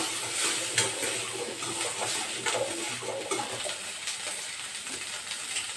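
Garlic, onion and ginger fry in a pan over high heat, giving a steady close sizzle and hiss with faint stirring scrapes throughout.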